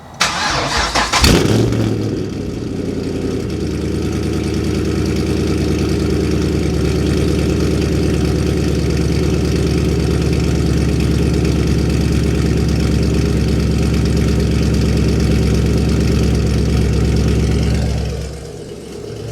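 Car fitted with Speed Engineering headers cranking and starting, then settling into a loud, steady, rumbling idle that carries on close by before cutting off near the end.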